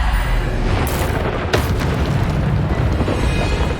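Bombarda spell explosions in Hogwarts Legacy, loud deep booms with rumbling low end, a sharp burst standing out around the middle amid continuous spell combat noise.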